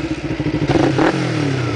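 Motorcycle engine revving hard during wheelie practice on a bike fitted with an upgraded carburetor and exhaust, a pulsing near roar that climbs and swells mid-way, with a light clatter.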